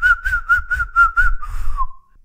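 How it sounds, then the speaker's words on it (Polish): A person whistles an opera melody in a string of short, clear, evenly spaced notes, ending in a longer falling tone, close and loud with no talk. "Czekajcie, jakąś operę wam wygwizdzę."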